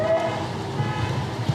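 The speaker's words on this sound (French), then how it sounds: "c'est un problème de klaxon." A car horn on a French-plated vehicle honks near the Belgian border during a police patrol, a steady tone sounding through a second and a half of close traffic rumble.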